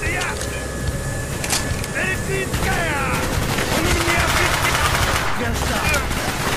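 MG42 machine gun fire from Call of Duty: Black Ops, with rapid bursts and sharp chattering shots among whizzing and ricocheting effects against a dense battlefield backdrop, loud throughout.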